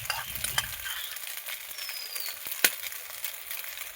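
Pasta in sauce is stirred in a pan, with a steady soft sizzle and scattered scrapes and clicks of the utensil, plus one sharper knock near the end; no one talks.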